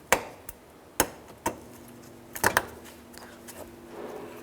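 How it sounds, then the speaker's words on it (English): Plastic retaining clips pushed back into the fender liner of a 2003-2011 Honda Element, a series of about eight sharp snaps and taps at uneven intervals, close and fairly quiet over faint background hum. "We're just going to start to reinstall our retaining clips here."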